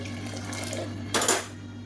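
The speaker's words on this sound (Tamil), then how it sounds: "இப்போ இதில் 1 டம்ளருக்கு தண்ணி சேர்த்துக்கிறேன்." A brief splash of one tumbler of water pouring into a metal cooking pot of herbal drink on the stove, a short burst over a steady low kitchen hum.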